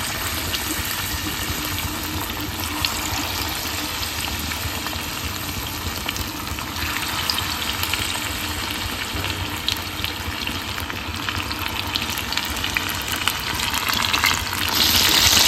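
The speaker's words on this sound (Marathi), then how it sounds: "तर मी आता एक एक बोंबील या तेलामध्ये सोडते. तेल मस्त असं आपलं गरम झालं." Bombay duck (bombil) fish fry in hot oil for an Aagri Koli recipe, giving a steady, bright sizzle and crackle that runs without a break, loud and close.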